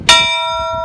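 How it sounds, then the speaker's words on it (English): A single loud strike of a large temple bell at Enoshima, Japan, with a bright clang that rings on in a sustained, shimmering tone. "might as well ring the bell at least once"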